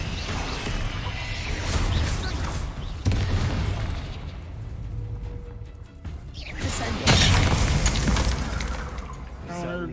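Bombarda and Confringo spell explosions in the Hogwarts Legacy video game, two heavy booming blasts with crashing debris and rumble, loud and close, with game voices talking over the effects.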